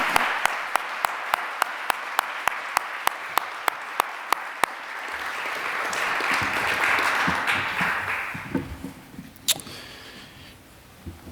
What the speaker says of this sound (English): honor her memory, honor Greg's message with a round of applause before we get into our silence.